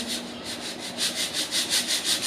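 Ration wheat is shaken through a sieve, a close rhythmic swishing and rasping that repeats about four times a second and grows slightly louder, with no voices.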